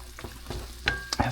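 Italian sausage sautéing in a pan on a stovetop while making stuffing, with a soft sizzle under a few sharp scrapes and clinks of stirring, close and alone over about a second.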